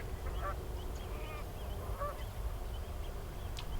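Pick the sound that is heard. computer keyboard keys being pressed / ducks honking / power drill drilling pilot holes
ducks honking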